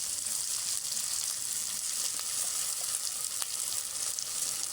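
Ground ginger and dry red chili paste frying in a pan, a steady bright sizzle with small crackles and pops, close and continuous, no talking.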